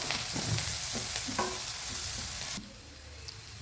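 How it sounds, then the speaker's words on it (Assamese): Onions sizzle in a hot pan with panch phoron and a little turmeric, a bright continuous frying hiss broken by a few stirring scrapes, then dropping abruptly to a quieter simmer near the end. "পিঁয়াজখিনি ভজা হৈ গ'ল"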